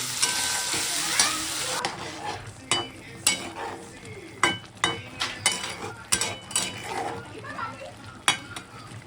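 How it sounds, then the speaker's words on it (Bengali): Helencha greens with potatoes, garlic and radhuni seasoning frying and being stirred in a pan, a steady sizzle with repeated scraping stirs and utensil clinks, children's voices and talk faintly in the background. "এইদিকে হেলেঞ্চা শাকের রান্নাটা হচ্ছে, ফোড়ন দিয়ে রসুন ফোড়ন আর রাঁধুনি ফোড়ন দিয়ে আলু দেওয়া হয়েছে।"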